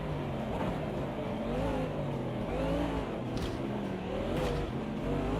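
A Porsche race car's engine drones in a racing sim, with a continuous revving whine that rises and falls as the car accelerates and shifts, backed by the steady hum of other cars on track.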